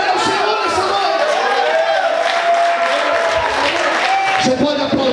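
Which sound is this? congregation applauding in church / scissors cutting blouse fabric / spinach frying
congregation applauding in church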